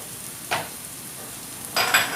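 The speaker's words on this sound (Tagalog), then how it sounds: "we'll just again stir fry this all together until it is fully cooked" Squid adobo with ginger, onion and garlic stir-fries in a pan, a steady low sizzle broken by two brief scraping stirs, the second longer and brighter.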